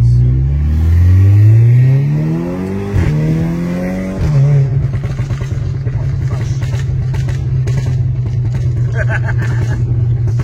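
A loud car engine revs up through several gear shifts, then settles into rapid, crackling exhaust pops firing like a machine gun, close by.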